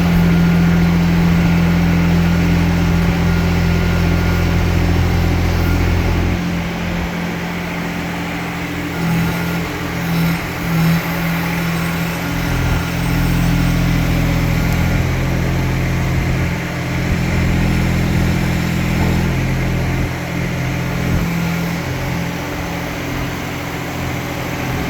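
A Kymron XH20D mini-excavator's engine runs steadily inside a garage, a loud continuous low rumble with a faint high whine, holding even throughout with slight shifts in load.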